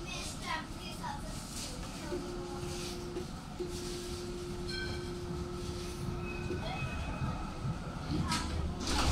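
Steady rumble of a Melbourne tram rolling along rails, with a long sustained metallic squeal and tonal whine over continuous low noise.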